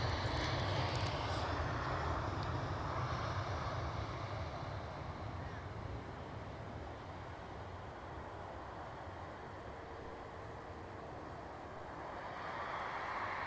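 Embraer airliner at Edinburgh Airport, a steady distant engine roar that stays broad and even throughout, fading slightly midway before swelling again.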